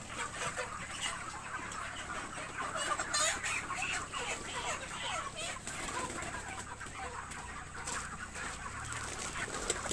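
Broiler chickens at 37 days old, ready for harvest, clucking steadily in a crowded coop, a dense continuous chorus of overlapping calls with no talk.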